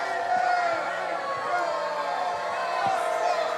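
Wrestling arena crowd roars in a steady, dense wash of cheering and babble that stays loud throughout, with scattered whoops rising from the mass of voices.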